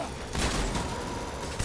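Rapid bursts of gunfire in Death Stranding crackle in a continuous dense volley, peaking loud early and staying busy to the end.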